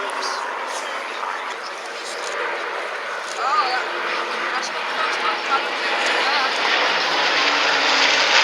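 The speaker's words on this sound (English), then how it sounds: "So the Hurricanes are on the wings. The Spitfires led by the Mark 16 in the centre of the centre line." Hurricane and Spitfire fighters, including a Spitfire Mark 16, flying over at the Cosford Airshow. Their engines make a broad, rising roar beneath a commentator's voice over a loudspeaker.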